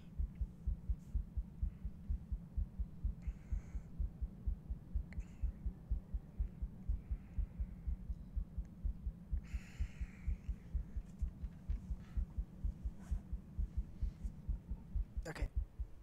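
Heartbeat sound effect in the horror video game Granny, a steady, loud, low thumping pulse repeating throughout, with faint other game sounds briefly over it.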